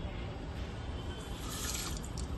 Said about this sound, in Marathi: अर्धा कप मी पाणी घेत आहे